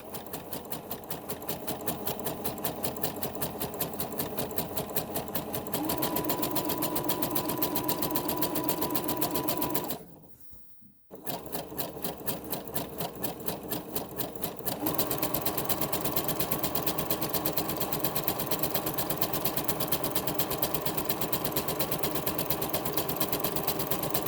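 A sewing machine zigzag-stitches over the raw edge of fabric for a little dress, running in a steady, fast, close mechanical rattle with a brief pause midway before resuming at a slightly stronger pace.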